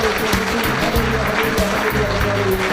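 A church congregation claps along in praise during a Malayalam worship service, steady rhythmic handclaps mixed with singing and voices, the whole room sounding full and continuous.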